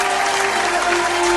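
Steady applause from a live audience at a gospel singing competition show, dense clapping held at an even level throughout with a faint sustained tone underneath.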